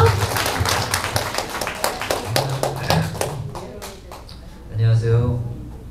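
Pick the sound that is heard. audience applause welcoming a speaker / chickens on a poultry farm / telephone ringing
audience applause welcoming a speaker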